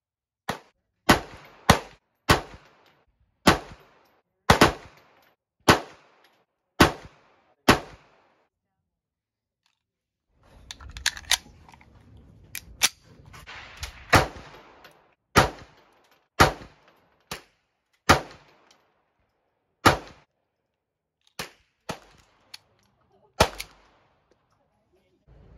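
Walther PPK pistol firing hollow point rounds at a range, sharp close cracks in a steady series with a brief pause and some handling noise midway before the shots resume.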